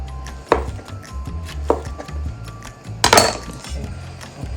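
A knife cuts food on a board during preparation of a Caribbean meal, with a few sharp, irregular chops and clinks spaced over a few seconds, close and fairly loud, with no talk.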